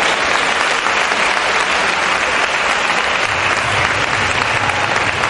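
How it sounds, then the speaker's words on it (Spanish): Sustained applause from the audience at the opening proclamation of the San Pedro Alcántara fair, a dense, steady wash of clapping that fills the whole stretch at high level. "Para ellos también pido un fuerte aplauso."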